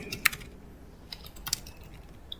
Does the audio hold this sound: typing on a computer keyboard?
yes